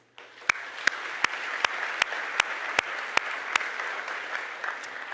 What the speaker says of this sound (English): I think you should applaud them too